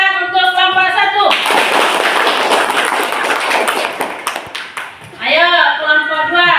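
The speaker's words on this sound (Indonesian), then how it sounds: "tepuk tangan untuk kelompok 1" A classroom group claps for a student group, a burst of scattered applause lasting several seconds, with a teacher's voice before and after.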